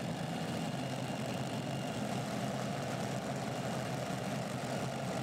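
A tractor-pulling competition tractor's heavy engine rumbling steadily at idle, a continuous low drone with no breaks, moderately loud.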